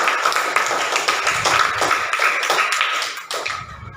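A classroom of students applauds a presenting group, a dense patter of many hands clapping steadily for about three and a half seconds before tapering off.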